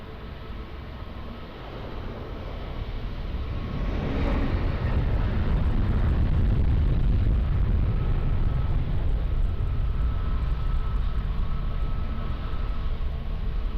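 An airliner takes off from runway 20 at Lisbon Airport: a deep, broad jet roar swells over the first few seconds and then holds steady and loud as the aircraft accelerates.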